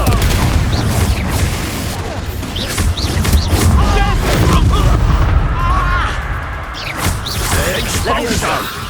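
Confringo fire-spell blasts in the Hogwarts Legacy video game, a run of loud booming explosions and crashing impacts mixed with battle effects and spoken spell incantations throughout.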